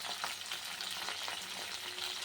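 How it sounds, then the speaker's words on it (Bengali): Cauliflower frying in hot oil gives a steady, dense sizzle with soft crackling throughout, close and fairly loud, with no voices over it. "ফুলকপির তেলটা দিয়ে দিয়েছি। ফুলকপিটা ভেজে নিই"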